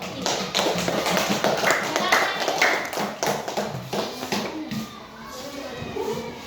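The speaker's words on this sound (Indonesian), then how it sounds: "Tepuk tangan untuk kelompok 1." Students in a religious-education classroom clap for a presenting group, a dense patter of many hands lasting several seconds and thinning toward the end, with voices murmuring underneath.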